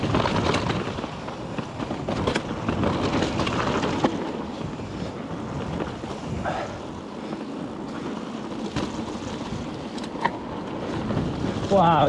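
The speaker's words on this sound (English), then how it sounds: "Wow, it's windy on these side bits." Wind gusts across an exposed, wet mountain bike trail at Bike Park Wales, making a continuous rushing and buffeting roar with occasional louder gusts.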